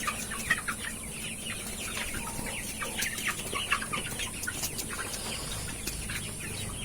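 Dense clucking and peeping from a crowd of 45-day-old Sonali chickens kept through fierce heat in a low-roofed shed without fans. The calls are busy and close, layered over a constant low drone, with no one speaking.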